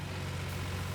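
A game vehicle's engine drones steadily while driving in Teardown, a continuous low hum with a faint hiss above it and no talk over it.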